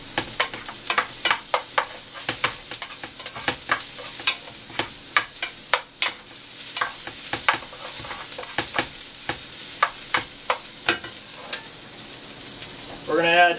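Garlic and herbs sizzle gently in a pan over low heat for a meatball and rigatoni sauce, with a soft continuous fry under repeated light scrapes and taps of a spoon stirring, close and without speech.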